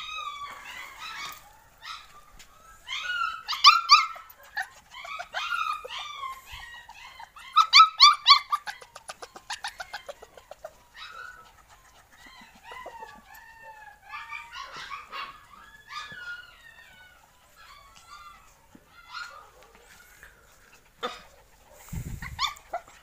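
A pack of black dogs and two fluffy poodle-type dogs bark and yelp in bursts, some clusters of rapid barks and whimpers, close and fairly loud, with quiet gaps between, no talking.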